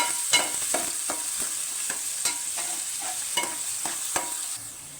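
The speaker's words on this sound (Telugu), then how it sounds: "తర్వాత పచ్చిమిర్చి, ఆనియన్, ఇది కొంచెం దోరగా వేగనిద్దామండి." Green chillies and chopped onion sizzle steadily in hot oil, with a spoon repeatedly scraping and tapping the pan in an uneven stirring rhythm, close and alone.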